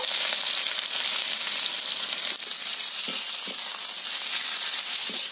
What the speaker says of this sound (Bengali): এতে কুচিয়ে রাখা পেঁয়াজগুলো দিয়ে দেবো ভাজার জন্য।